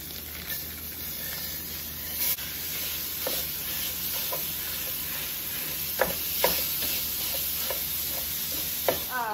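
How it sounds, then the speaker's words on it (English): Onion, garlic and fresh farm-raised beef sizzle steadily in a pan, a soft continuous hiss broken by occasional scraping clicks of stirring, fairly quiet and close. "this onion and garlic is cooking down pretty well"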